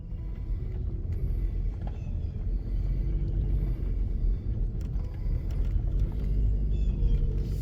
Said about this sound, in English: we hop in the car and drive a little bit more and see the back of it